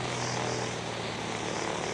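A helicopter flies in a 1978 animated film, giving a steady, close, droning rotor and engine roar that holds level throughout the short stretch, with no speech.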